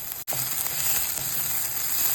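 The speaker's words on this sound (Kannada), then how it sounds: "1 ಟೀ ಸ್ಪೂನ್ ಎಣ್ಣೆ ಹಾಕಿ ಅದನ್ನು ಬಿಸಿ ಮಾಡಿ ಈಗ ಅದರಲ್ಲಿ ಕೊಯ್ದಿಟ್ಟಿರುವಂಥ ಈರುಳ್ಳಿ ಹಾಕಿ ಹುರಿ" Chopped onions frying in hot oil in a pan, a steady, dense hiss and sizzle that runs throughout, close and fairly loud, with one brief dropout near the start.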